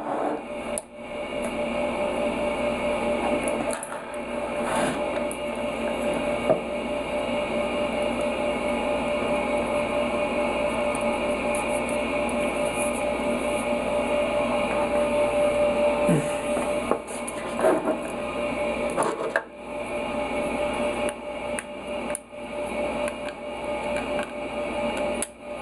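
A truck air horn compressor is opened up with tools, giving a continuous mechanical hum and rattle with intermittent clicks and scrapes throughout, fairly steady and close.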